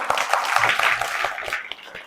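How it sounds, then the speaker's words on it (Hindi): A group of children clapping together in a classroom, a quick ragged burst of applause fading out over about two seconds. "वेरी गुड, ताली बजाओ।"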